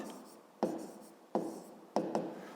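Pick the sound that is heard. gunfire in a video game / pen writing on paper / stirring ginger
pen writing on paper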